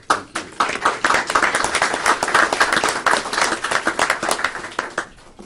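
Applause from a crowd at a county commissioners' court session fills the whole stretch, dense overlapping hand claps at a steady level that taper slightly toward the end.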